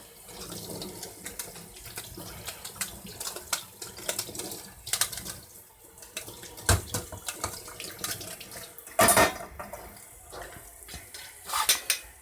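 Camping cooking pans are washed by hand in water: sloshing and splashing mixed with clattering metal knocks and scrapes, irregular and close, with a few sharper bursts near the end.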